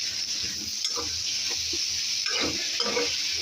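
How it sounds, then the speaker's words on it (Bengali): Spring onion greens cooked with fish oil and fresh coriander in a pan are stirred, with a steady background sizzle and soft, irregular scraping and stirring strokes, close by. "এই যে এখন ধনেপাতা দিয়ে দিছি, এটা দেখুন নাড়াচাড়া করে নামিয়ে ফেলবো।"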